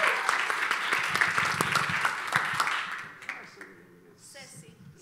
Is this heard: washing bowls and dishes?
no